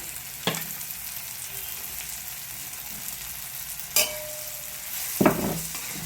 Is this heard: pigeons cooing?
no